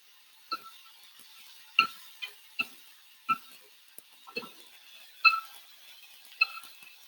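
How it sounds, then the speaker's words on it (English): Shrimp cook in olive oil with garlic, making soft, scattered pops and crackles at irregular intervals over a quiet background. "So you can hear the shrimp cooking."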